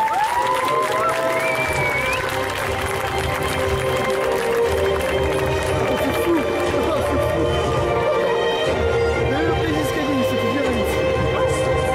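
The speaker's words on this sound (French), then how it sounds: "Donc je vous demande de l'applaudir bien fort." Crowd applause for a cosplay contestant at the Yggdrasil 2019 festival, a dense, loud, continuous clapping that runs the whole time, with scattered cheers and a busy hall ambience mixed in.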